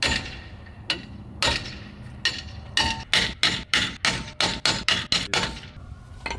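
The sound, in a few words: hammering on a wheel during FJ60 brake replacement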